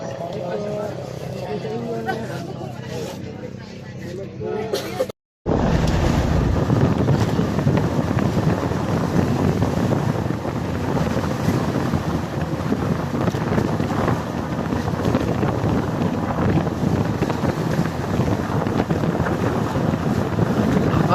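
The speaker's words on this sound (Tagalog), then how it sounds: "Lakas ng alon." Strong wind and rough ocean waves roar steadily around a boat at sea, a loud continuous rush of wind buffeting the microphone and water noise, briefly cutting out near the start, with people talking over it.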